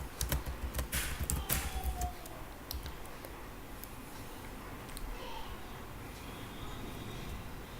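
Fingers clatter on a computer keyboard while typing PHP code, a dense burst of keystrokes in the first two seconds thinning to scattered taps over faint background hiss.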